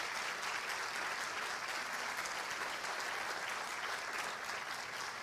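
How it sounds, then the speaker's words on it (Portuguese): A church congregation applauds in a sustained, even wash of clapping lasting several seconds, moderately distant and fairly quiet, with no break or talk over it. "Pode aplaudir, pode aplaudir."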